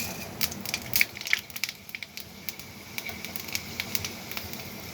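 Panch phoron spices drop into hot oil, giving a close, crackling sizzle with scattered sharp pops and spits over a soft steady hiss, loudest early on, with no talk.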